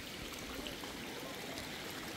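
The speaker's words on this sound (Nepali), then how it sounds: "मूल फुट्या छ" Water gushes steadily from a spring that has burst out of the ground, a continuous, fairly faint rushing stream with no break and no talk over it.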